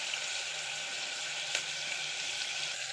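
Onions sauté in a pan with a constant close hiss and crackle, a single brief louder pop near the middle, and no talking.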